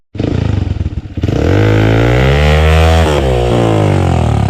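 A motorcycle engine revs hard and close in mud, rising into a loud sustained roar with shifting pitch, sputtering briefly at the start.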